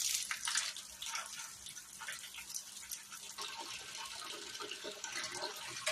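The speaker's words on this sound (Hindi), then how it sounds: "इसी में ये डाल के अच्छे से धोऊंगी" Watermelon rind being washed with water in a large wok, a steady splashing and running-water wash with soft rubbing noises, fairly close and continuous throughout.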